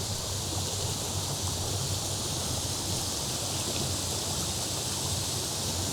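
A small, short waterfall on a brook in Pictou County, Nova Scotia, giving a steady, close rushing roar of falling water with no break throughout.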